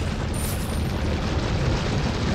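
Grenade explosion in Resident Evil 4 Remake, a dense, loud, sustained boom filling the whole span with a deep rumbling roar and no speech over it.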